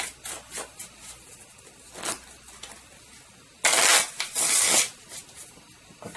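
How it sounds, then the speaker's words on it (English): A deck of board game event cards and discard pile being shuffled by hand, with several short riffling bursts early, then two longer, louder shuffles close to the microphone. "We take the event deck and the discard pile and we give them a good old shuffle."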